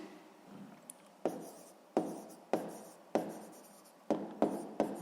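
Pen writing an answer in a notebook during a sixth-grade maths exercise, heard as a series of close, scratchy strokes that start sharply and fade, about eight in a row with short pauses between.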